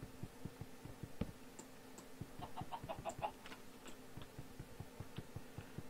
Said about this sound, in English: Chicken must die.